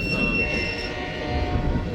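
A BNSF freight train rolls past near Fremont, Nebraska, its wheels letting out a sustained high metallic squeal over a steady, loud rumble of railcars that continues throughout.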